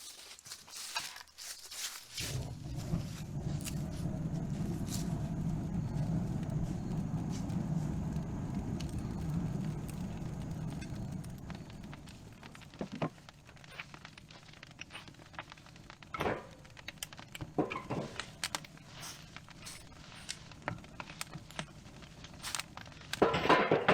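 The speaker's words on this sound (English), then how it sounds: "I hear Lisa stacking firewood" Firewood being stacked beside a DIY smoker grill, with a burst of dense crackling noise at first, then sparse, scattered woody knocks and clunks, some near and fairly loud, continuing alone to the end.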